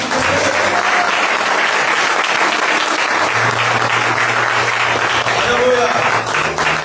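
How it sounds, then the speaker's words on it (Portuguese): A church congregation applauds together in steady, dense clapping throughout, loud and close, with a few faint voices and musical tones underneath. "Podemos aplaudir Jesus?"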